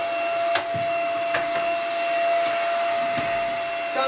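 A Simplicity S67 cordless vacuum cleaner runs with a steady motor whine and airflow hiss, moving around a sewing machine with an attachment. A few faint knocks sound over the constant drone. No one talks.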